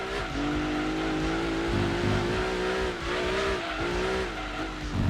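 A TVR car in Gran Turismo 2 drives hard with a loud, continuous engine drone, the revs rising and dipping through gear changes and corners, with no talk over it.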